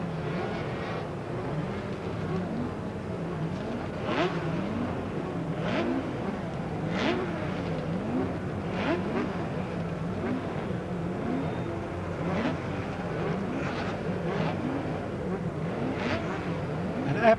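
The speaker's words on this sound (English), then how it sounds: "An absolutely enormous field of sidecars lines up on the Oran Park grid" A large field of racing sidecar motorcycles at Oran Park in 1989 drones steadily, several engines blending into one continuous rasping roar with repeated rising rev bursts, no voices on top.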